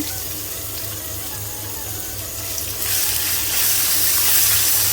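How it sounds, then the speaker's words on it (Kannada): Chopped onions going into a hot pan for broccoli masala, raising a steady loud hiss and sizzle that swells partway through, close up with no talking. "ಅದನ್ನು ಹಾಕಿದ ಕೂಡಲೇ ಈರುಳ್ಳಿ ಹಾಕ್ಕೊಳ್ತಾ ಇದ್ದೇವೆ"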